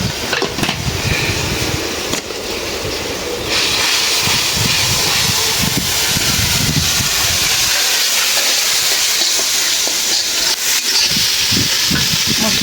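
Chilli and coriander powder spices frying in a pan give a loud, steady hiss of sizzling that stays constant throughout, with occasional stirring scrapes underneath.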